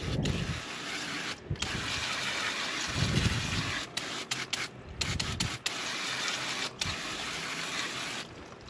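Brake cleaner is sprayed into the chaincase of a 1999-2003 Ski-Doo ZX chassis snowmobile, a loud continuous hissing spray close up, interrupted by a few short pauses and low rubbing knocks.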